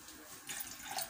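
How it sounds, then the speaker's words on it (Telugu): Water poured into a cooking pan to make Maggi noodles, a soft, brief splashing trickle that swells slightly halfway through, faint and close by. "ఇక మా మనకి మ్యాగ్ చేద్దామని కొన్ని వాటర్ పోసుకుంటున్నా."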